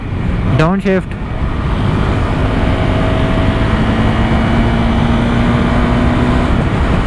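A motorcycle engine drones loud and close under wind and road rush during a clutchless downshift on a ride from Bengaluru, with a quick shift of engine note near the start, then a sustained steady hum.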